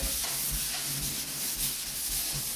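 Wet sanding of primer on a Fiat Spider car body, a close, continuous abrasive rubbing with a gritty hiss and soft rhythmic strokes, no talking.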